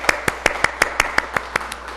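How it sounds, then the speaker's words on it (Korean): A church congregation claps for a birthday celebration, about a dozen sharp, evenly spaced claps in a steady rhythm, close and clear, that fade slightly toward the end. "우리 생일 축하의 박수 보내드리겠습니다"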